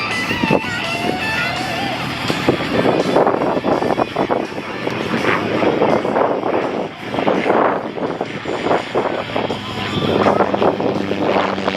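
An aerobatic aircraft performing maneuvers at the Hillsboro, Oregon airshow gives a loud, steady engine roar with wind buffeting, its pitch surging and fading across the pass.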